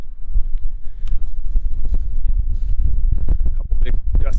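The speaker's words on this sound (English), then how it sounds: "A couple big gusts of wind here trying to shield the mic." Strong wind gusts buffet the microphone with continuous heavy, low rumbling thumps and crackles, fairly loud throughout.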